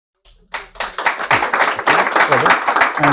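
A small audience breaks into clapping after a panel discussion reacting to the Autumn Budget, quickly building to dense, lively applause while voices talk over it.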